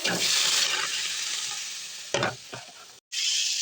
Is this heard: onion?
yes